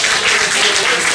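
An audience at a carnival song contest claps heartily for a finalist's performance, a brief, dense, steady burst of applause.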